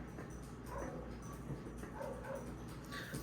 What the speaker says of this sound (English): My dog is being a turd nugget outside right now.